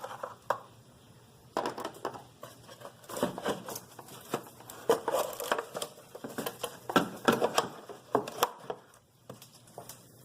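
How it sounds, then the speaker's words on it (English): Bolts being removed during a thermostat replacement on a 2003 Ford Focus 2.0L SOHC: irregular metallic clicks, scrapes and rattles come in uneven clusters, fairly close but quiet, with short pauses between bursts. "Let's take these bolts out so we don't lose them"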